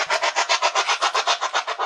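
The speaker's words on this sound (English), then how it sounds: "The noise you can hear is the spirit box." A spirit box device sweeps out a steady pulsing static hiss, chopped into rapid regular bursts about seven per second, close and alone without any voices.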